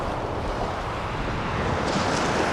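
Rough, choppy sea surf rolling onto the shingle of Chesil Beach, a steady loud wash of breaking waves mixed with gusty wind buffeting the microphone, no voices.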